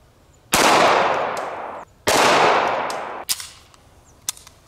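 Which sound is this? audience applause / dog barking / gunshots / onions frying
gunshots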